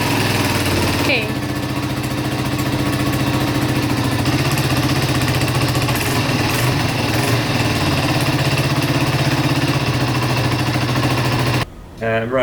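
An old 125cc motorcycle engine running poorly, with a loud, steady, rough idle close by that drones throughout and cuts off near the end; someone talks over it.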